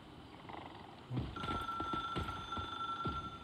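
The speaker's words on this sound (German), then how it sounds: "jetzt klingelt das Telefon sowieso" A telephone rings in the video game Once Human, a steady electronic trill that holds on over a busy background of scattered clicks and knocks.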